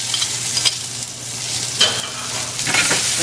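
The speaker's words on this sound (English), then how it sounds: "Just going to give them a quick saute, okay?" Mixed vegetables sautéing in olive oil in a hot pan, a steady broad sizzle with a few brief stirring scrapes and clatters, close and clear with no talking.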